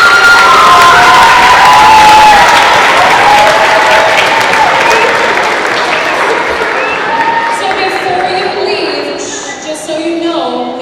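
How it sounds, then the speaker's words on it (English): An audience at a 5th grade school demonstration concert applauds and cheers for the band, loud clapping with shouts and children's voices that gradually thins out as talk rises near the end. "we also want to give the band a round of applause one more time"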